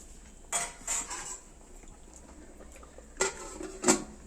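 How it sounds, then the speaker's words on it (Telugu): A spoon clanking against a metal pot of mutton curry as it is stirred, then the lid set down with two sharp clinks, with quiet gaps between the sounds. "వేసుకున్న తర్వాత ఇలా తిప్పుకుని మూత పెట్టుకుని ఉడకనివ్వాలి కాసేపు"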